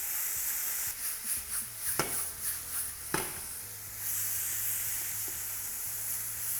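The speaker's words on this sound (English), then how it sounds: "So in with the beef, really hot pan" Beef strips sizzling in a very hot pan, a steady bright hiss with a few sharp crackles and stirring scrapes, close and fairly quiet, no talking.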